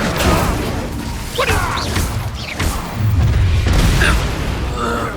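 A fire spell is cast in the Hogwarts Legacy video game: a loud, booming magical blast with sweeping whooshes and heavy thuds layered through a dense, continuous combat soundscape.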